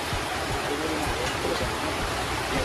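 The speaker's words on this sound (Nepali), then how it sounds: "कत्रो पानी आएको छड्के पानी" Heavy slanting rain pours steadily onto a rural home in a Nepali village, a dense continuous hiss with scattered patter and drips, loud and close throughout the short stretch.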